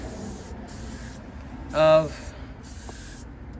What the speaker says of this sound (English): Spray it all inside the auger housing here because I'm going to have some wet, heavy stuff